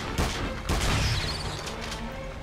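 Shotgun blasts aimed at a giant centipede in the King Kong game, two or three loud booming shots close together near the start, followed by a rumbling, noisy tail.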